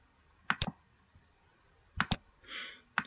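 Computer mouse clicks while building a multiple-choice slide in PowerPoint: close, crisp double clicks in two quick pairs, then a single click, with a brief soft rustle between them and no talk.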